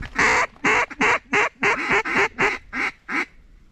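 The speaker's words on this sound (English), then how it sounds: "Is that another mallard?" A mallard duck quacks ten times in a steady, evenly spaced series, loud and close, then falls quiet, on public hunting land in Texas.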